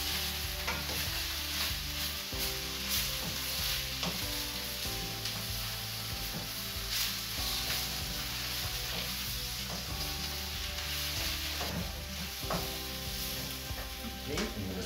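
A large heap of spinach sizzles and wilts in a hot pan for harissa prawns with spaghetti, a continuous crackling fry broken by occasional stirring scrapes, with soft music underneath.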